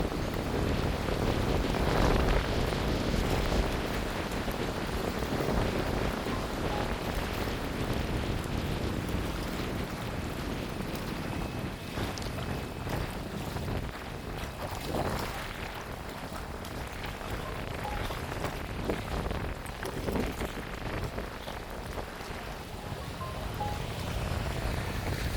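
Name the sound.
strong wind at Lake Sarangan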